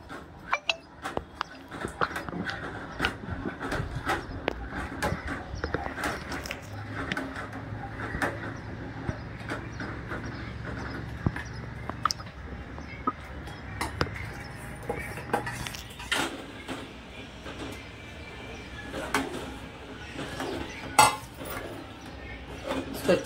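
A spoon scraping and clinking against a pan while dissolved custard powder is stirred into mango custard, with irregular metallic taps and scrapes throughout and quiet background noise.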